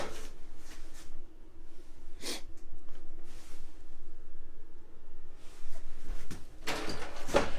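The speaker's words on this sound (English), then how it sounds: "pull out metal ball bearing drawer guides" A kitchen drawer on metal ball-bearing pull-out guides slides in a 2017 Jayco Jay Feather 23RLSW travel trailer, making short rolling rushes, one in the middle and a couple close together near the end, between quieter handling noises.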